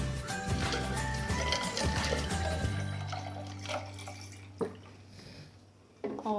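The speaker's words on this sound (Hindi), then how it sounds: "अब इसमें पानी ऐड कर देंगे।" Water is added to a homemade mango fruity drink, a trickling pour and light splashing under steady background music that drops away midway, with a couple of clinks toward the end.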